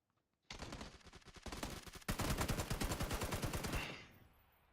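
PUBG gunfire: a loud, rapid automatic burst erupts, briefly pauses, then resumes as a denser, heavier string of shots before cutting off, with no talking.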